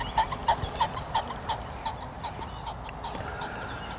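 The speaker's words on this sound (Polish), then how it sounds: "kogut bażanta wyrywał się spod nóg." A cock pheasant flushes from underfoot, giving a quick series of about five sharp, loud calls that fade over two seconds, then a quiet field background.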